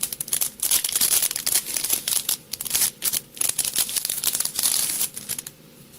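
Close, loud crinkling and tearing of a Yu-Gi-Oh trading card booster pack wrapper being ripped open, with rapid bursts of plastic crackle over several seconds and no talking.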